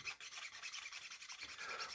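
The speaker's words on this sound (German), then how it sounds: "zuerst sägen wir diesmal die Spitze" Hand saw cutting off the tip of a part for a Stampede RC car modification, a steady rasping back-and-forth stroke close up, continuous with a brief pause early on.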